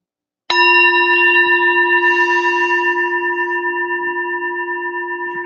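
A single struck meditation bell sounds once during a guided morning meditation, a sharp attack followed by a long, clear, ringing sustain that slowly fades with reverberation, loud and alone with no talking.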